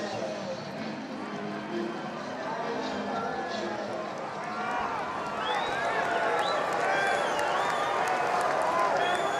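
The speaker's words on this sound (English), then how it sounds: "you can hear the crowd responding audibly to Max Muncy's name being announced" Baseball crowd at an Angels–Athletics game reacting to Max Muncy's name being announced over the public address, a steady roar of many voices that swells louder in the second half, with voices over it.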